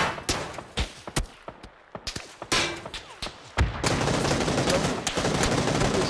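Sharp, loud gunshots crack in PUBG: Battlegrounds, several spaced single shots followed by a sustained, dense burst of fire, with a voice faintly heard beneath.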